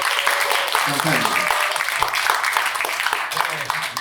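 Seminar audience clapping in a lecture hall, a steady wash of applause running under a voice speaking over it.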